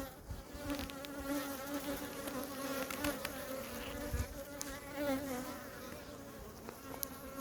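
Honeybees buzz continuously around a hive at low volume, a dense droning hum with no voices.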